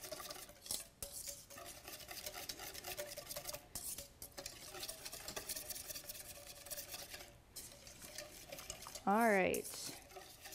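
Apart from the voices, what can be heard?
stirring raw chocolate truffle mixture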